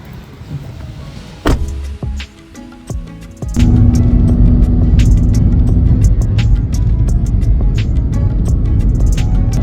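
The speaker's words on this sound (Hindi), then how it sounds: "भाई साहब बैठ रहे हैं गाड़ी में, हम यहाँ से निकल रहे हैं।" A passenger car in the Hyderabad region of Sindh: a couple of sharp door thuds and clunks, then the engine picks up and holds a steady drone as the vehicle pulls away.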